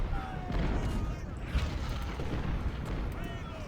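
Heavy siege guns and 20-pounder artillery firing in Ultimate General: Civil War, deep booms and rumbling blasts overlapping in a busy battle din, with a voice talking over them.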